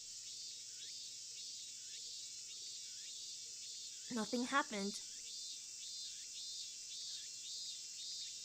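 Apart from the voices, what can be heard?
cicadas chirping, from a video game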